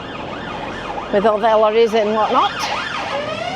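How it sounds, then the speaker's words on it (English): An ambulance siren wails through a Blackpool street, rising and falling in repeated sweeps at moderate distance, with a brief steady two-tone stretch in the middle, as someone speaks briefly nearby. "Oh, there's the ambulance. There's always a siren."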